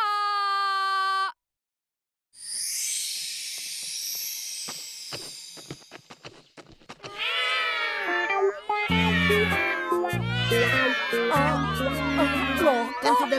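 A cartoon character makes a long series of meow-like calls to attract a cat. The voice imitates a cat, with a tonal cry, a short silence, squeaky whimpers and then busy layered animated sounds and music.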